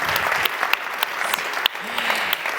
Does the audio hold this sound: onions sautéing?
no